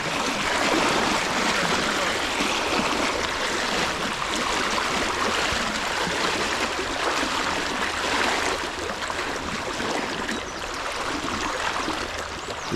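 Fast-flowing river water rushes steadily and loudly close by, a continuous broadband wash with no pauses, heard while fishing for chub.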